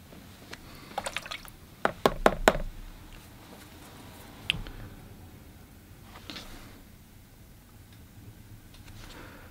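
Watercolor paint spatters onto paper in a quick cluster of small taps and drips, followed by a few scattered faint drops and quiet brush sounds.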